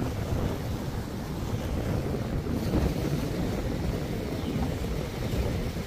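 Sea waves and wind at Stanley Beach, Hong Kong, make a continuous, loud roar of surf, with gusts buffeting the microphone throughout and no voices.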